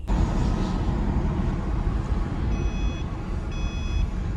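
A car's seatbelt warning chimes in short high beeps, two brief bursts about a second apart, over steady road and engine rumble inside a moving Subaru with a dog in the seat.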